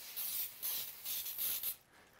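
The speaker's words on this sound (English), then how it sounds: "I'm gonna spray this with a little bit of baking spray." Several short hissing bursts of baking spray from an aerosol can, close and fairly soft, with brief pauses between them.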